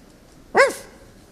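A single short, high bark or yip, like a small dog's, stands out once against a quiet background.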